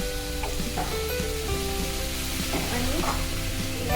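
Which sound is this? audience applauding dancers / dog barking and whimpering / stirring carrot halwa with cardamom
stirring carrot halwa with cardamom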